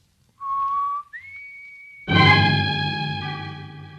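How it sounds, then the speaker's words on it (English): A person whistles a warning signal in an old-time radio drama: a short steady note, a brief rising slide to a higher held tone, then a louder sustained harmonic tone that fades slowly. "Outside, at the front of the building, Dale whistles the warning signal to Roy and Jonah"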